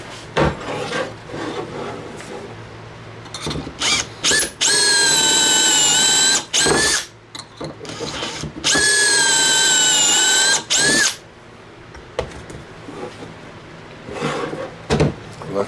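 A power drill bores pocket holes in a wooden board set in a VEVOR pocket hole jig, in two long, loud, steady bursts of several seconds each, with clicks and handling noises before, between and after.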